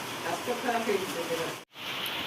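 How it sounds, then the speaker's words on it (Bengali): Heavy rain falls steadily outside, making a dense, continuous hiss with a brief break near the end, while someone talks over it. "এই দেখুন বাইরে পড়ছে বৃষ্টি গতকাল থেকে প্রচণ্ড বৃষ্টি হচ্ছে"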